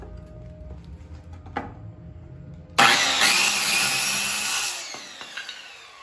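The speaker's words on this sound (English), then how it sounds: "Take my skill saw." A handheld skill saw trims the excess arm piece off a barrel-stave lovers bench, starting abruptly and whining loudly through the cut for about two seconds before winding down, with faint knocks and handling noises around it.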